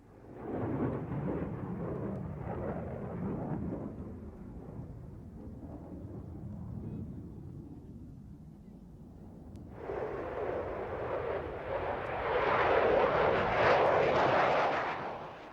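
F-15 fighter jets from Lakenheath take off at an air fete, a deep roaring rumble that swells and fades, then a second, brighter and louder blast of jet noise building toward the end.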